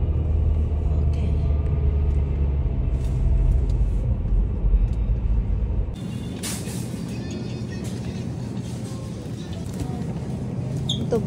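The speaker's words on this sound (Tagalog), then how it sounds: "Sabi pa ni Tammy, you have to drive carefully ha, kasi it's been over a month na hindi ka nag-drive" A car drives along with a steady low engine and road rumble throughout, the tone shifting partway as the ride continues, with faint cabin noises and brief voices.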